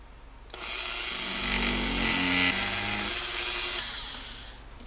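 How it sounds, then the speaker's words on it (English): A Dremel rotary tool spins a felt polishing pad with metal polish against Smith & Wesson M&P 9mm pistol trigger parts. It gives a steady, close high-pitched whine for about three seconds with no talk. "You're just going to be using the Dremel and some metal polish."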